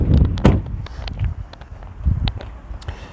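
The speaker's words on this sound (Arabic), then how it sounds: "كنحلوا الباب ديال السياره" A car door being unlatched and opened up close, with loud handling clunks and knocks, a latch thud and scattered small clicks of the mechanism.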